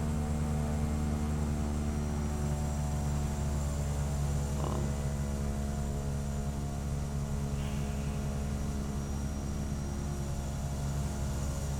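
A simulated propeller aircraft in Flight Simulator X, descending with the throttle pulled almost all the way back. Its engine gives a steady, even drone with a strong low hum that stays constant throughout, and no voices are heard.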